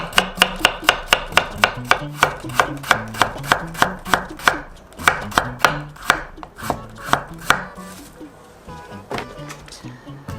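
A knife cuts thin slices of radish on a cutting board for cheonggukjang stew. About two dozen crisp, close, evenly spaced chops come in a fast steady rhythm, then stop, leaving quieter handling sounds.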